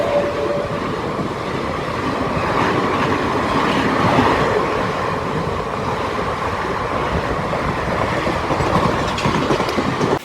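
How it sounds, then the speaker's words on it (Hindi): The Bathinda–Gorakhpur Gorakhnath Dham Superfast Express rushes past at close range, a loud continuous roar of coaches with rhythmic wheel clatter and rail rumble throughout; no voices. "यहाँ से निकल रही है अपनी बठिंडा गोरखपुर गोरखनाथ धाम सुपरफास्ट एक्सप्रेस"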